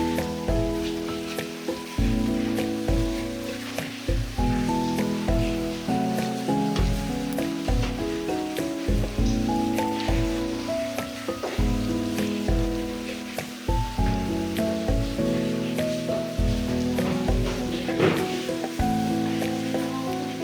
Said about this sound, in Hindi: मसाला बिल्कुल तैयार हो चुका है। अब हम इसमें बैंगन शामिल करेंगे।